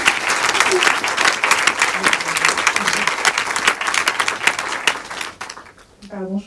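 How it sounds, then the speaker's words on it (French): Audience applause at the close of a talk with an animation filmmaker, dense steady clapping filling the room for about five seconds before thinning out as a voice begins speaking. "je coupe les applaudissements"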